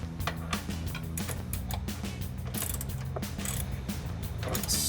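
Ratchet tightening bolts on RedRock bed-side rock rails fitted to a Jeep Gladiator JT, a run of rapid metallic clicks in short bursts, close by, with no speech.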